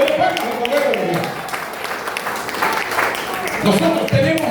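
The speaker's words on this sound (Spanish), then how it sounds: "de palmas al poder de Dios" A church congregation applauds with a dense, loud patter of clapping that is sustained throughout, while voices speak and call out over it.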